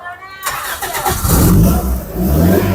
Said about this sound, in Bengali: ভাই হাফটকে স্টার্ট করছি গাড়ি